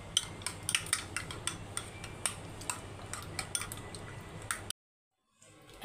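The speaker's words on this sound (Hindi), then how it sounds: "अब इस अंडे को हम इस तरह से घोल लेते हैं" Two eggs are whisked in a bowl with quick, steady metallic clicks of the whisk against the bowl over several seconds, then it stops abruptly into silence.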